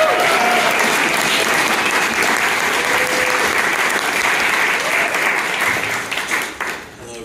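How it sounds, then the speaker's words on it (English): Sustained, dense applause from a concert audience for a group of young musicians at a music program finale, steady and full for several seconds before tapering off, with faint voices mixed in. "Can we give these fellas another round of applause?"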